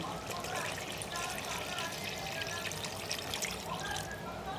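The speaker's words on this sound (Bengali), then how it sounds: "আর দিয়ে দিচ্ছি আন্দাজ মতো পানি" Water poured by estimate into a pan of chicken curry with green chillies, a soft continuous splashing trickle lasting several seconds, fairly quiet and alone.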